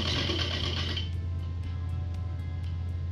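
Domestic sewing machine stitching the leg seam of a salwar suit during tailoring: a steady close motor hum with dense high whirring that drops away after about a second, leaving a low drone and faint regular ticks.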